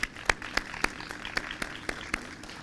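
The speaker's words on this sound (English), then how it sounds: "Let's give them a round of applause." Applause for filmmakers at the 2019 A Place Called Sacramento film festival: a few sharp, separate claps at a steady pace over a quiet room, thin and fairly close, as if only a small part of the audience is clapping.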